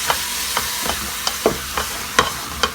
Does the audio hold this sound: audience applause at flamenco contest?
no